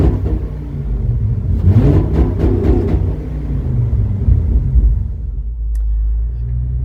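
A 1965 Ford C850 truck's engine idling close by, a deep steady rumble with an uneven throb and slight rises in pitch, loud and alone.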